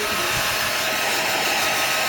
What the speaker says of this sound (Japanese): ドライヤー中。